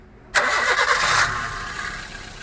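A used car of about 12 or 13 years, checked during a Chennai resale evaluation, has its engine cranked and caught in one sharp start, then it settles into a steady idle, close and loud.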